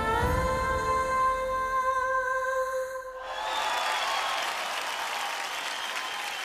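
At the Zee Rishtey Awards 2022, held musical tones end and a large audience bursts into loud, sustained applause that carries on to the end.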